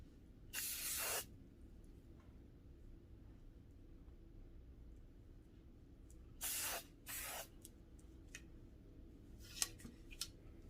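Hairspray is misted onto heatless curls in three short hissing bursts, one early, then a double burst, followed by a couple of faint clicks in a quiet room.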